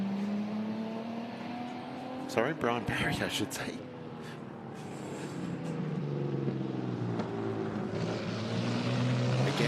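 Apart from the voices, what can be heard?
Jaguar D-Type replica with XK engine racing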